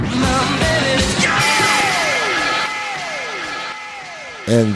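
A song playing loud and dense, with sung vocals, gliding guitar bends and a full band mix that stays steady before a sudden louder burst at the end.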